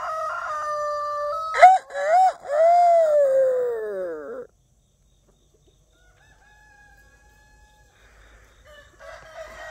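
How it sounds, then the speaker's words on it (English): Ayam Cemani rooster crowing loudly and close by in one long drawn-out call on a homestead, followed by near silence and faint, distant bird sounds. "I am Samani Rooster."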